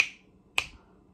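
Two crisp finger snaps about half a second apart, close and clear in an otherwise quiet space, no voices.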